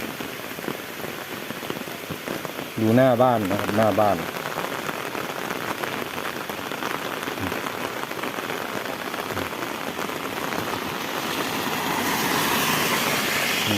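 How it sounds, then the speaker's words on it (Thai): Heavy rain pours steadily in front of a house, a dense, continuous hiss throughout, while someone speaks briefly over it. "ฝนตกตั้งแต่ตีสี่แล้วพี่น้อง"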